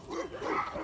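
Bullmastiffs barking on an evening walk, a few deep close woofs run together in under a second.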